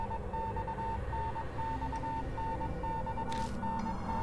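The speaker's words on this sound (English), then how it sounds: "The beeping becomes gradually louder, almost as if it's trying to tell me something." Repeating electronic beep sequence in the Spirit Hunter: Death Mark video game, short evenly spaced tones pulsing in a coded pattern over a dark low background hum, steady and continuous.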